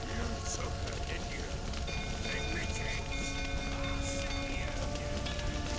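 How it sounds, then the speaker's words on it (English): Steady rain falls in the video game The Witcher 3, a constant hissing patter on surfaces running the whole time with a voice and faint game tones over it. "Looks like rain"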